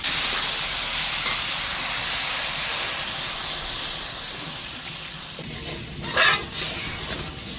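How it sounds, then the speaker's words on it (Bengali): Hot water hits spiced potatoes frying in a pan, from a fish curry of singi fish with potato and eggplant, producing a loud, steady hiss of sizzling that holds the whole time and swells briefly near the end. "মশলা আলু কষানো হয়ে গেছে, এখন আমি দিয়ে দেবো একটু গরম জল"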